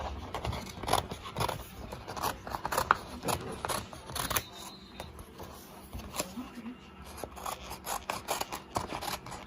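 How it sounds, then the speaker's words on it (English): Sharp scissors snip repeatedly around printed paper labels, making crisp, close cuts in uneven bursts along with paper rustling, while someone talks throughout. "Now you want to get you a sharp pair of scissors, cut around it"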